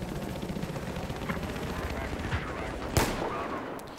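Gunfire in Battlefield 4: dense, continuous battle noise with scattered shots and one sharper crack near the end, with a voice speaking over it.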